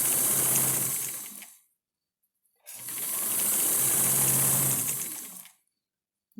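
A sewing machine hems the edge of a double gauze baby sling in two runs of steady, fast stitching, each a couple of seconds long and close to the microphone, separated by a brief silence.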